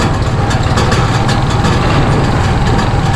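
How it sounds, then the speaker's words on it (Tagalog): The engine of a motorcycle tricycle, rattling from a fault that needs welding, idles loudly and steadily with a rough, low rumble and a continuous clatter. "makalampag ang motor dahil may kailangang i-welding"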